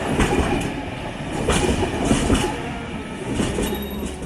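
A double-decker passenger train runs on rails from Sydney toward the Blue Mountains, a continuous heavy rumble with rhythmic clattering wheel beats throughout and no talk.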